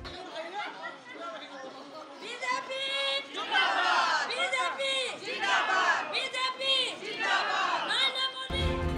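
Crowd of BJP leaders and workers in Assam celebrating the party's Delhi election win, a dense, loud chatter of many voices with shouts and cheering that continues throughout and surges near the middle.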